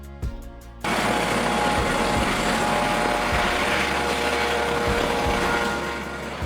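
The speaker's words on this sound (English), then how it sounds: "Police helicopter." A police helicopter used for surveillance and pursuit, its rotor chop and turbine whine rising abruptly after a brief quieter start, then holding as a loud, steady, close roar with rhythmic blade thumps throughout.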